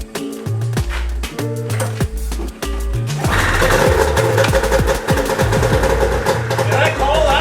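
A 1997 Cougar snowmobile engine fires up after a pull start, beginning with a few uneven chugs and then catching into a loud, steady, rattly idle with some voices over it.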